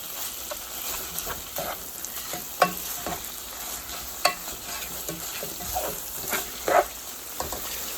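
Garlic paste frying in a pan with steady sizzle, stirred now and then by a utensil that scrapes and clacks against the pan in a few sharp knocks, close by with no talking.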